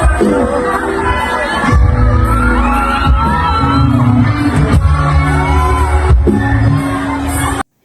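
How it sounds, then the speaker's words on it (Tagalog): A large crowd at a festival stage screams and cheers loudly and continuously, with shrill whoops and shouts rising over a dense roar before cutting off abruptly. "Sigawan ang mga tao nang isayaw ni Jericho Rosales ang dalaga"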